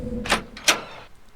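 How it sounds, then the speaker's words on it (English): A key turning in the front door lock in Scratches, heard as two short, close metallic clicks with a faint hum beneath. "With very little effort, the key unlocked the front door."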